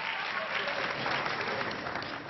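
An audience at a comedy show applauds a woman, a steady, even wash of clapping that carries through the whole moment with no voices over it.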